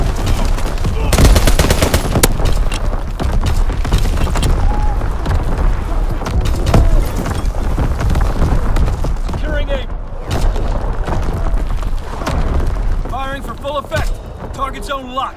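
Artillery barrage and gunfire in the Call of Duty: WWII multiplayer Shipment map, dense continuous booms and rapid shots crowding together, loud and close, with voices calling over the battle.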